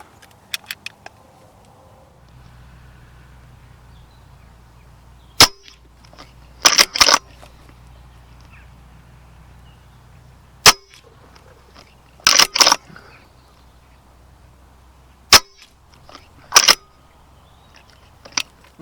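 Several sharp air rifle shots during an evening of wood pigeon decoying, sounding as isolated cracks and close pairs spaced seconds apart over a quiet outdoor background.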